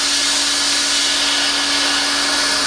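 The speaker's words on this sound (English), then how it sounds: "I've got my speed nozzle in the gun warming up" Plastic welding hot air gun fitted with a speed nozzle warming up, a steady loud airy hiss with a faint constant hum, unbroken throughout.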